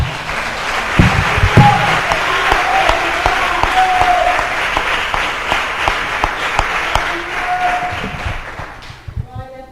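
Church congregation at a Sunday evening service applauding, dense sustained clapping that stays loud and full before thinning out at the very end, with faint voices mixed in.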